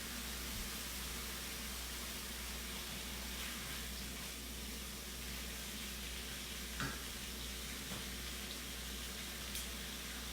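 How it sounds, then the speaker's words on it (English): Pineapple and bacon fry in a hot pan, giving a continuous, even sizzle with a few faint pops and stirring clicks, close and steady with no talk over it. "We are sizzling. Oh, pineapple and bacon are like"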